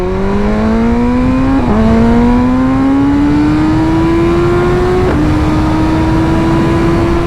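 A 2023 BMW M1000R motorcycle engine accelerates hard and loud, its pitch climbing steadily through the gears with two sharp gear-change dips, heard close and continuous without talk.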